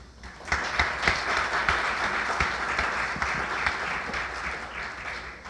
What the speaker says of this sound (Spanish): entonces también pido un aplauso para él